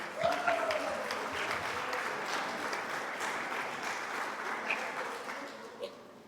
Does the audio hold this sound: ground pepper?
no